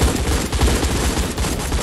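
Dense, continuous gunfire from a police-versus-gang shootout in the roleplay game One State RP, rapid overlapping shots and bursts packed into a loud, unbroken volley with no talk.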